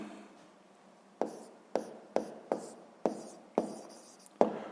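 Chalk or marker strokes writing a sixth-grade math exercise by hand, heard as a series of about eight sharp taps and scrapes, close and fairly quiet, spaced irregularly with no talking.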